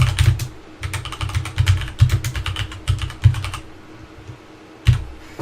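Rapid clattering keystrokes on a computer keyboard, typed in quick bursts with short pauses, close and clear with no talking.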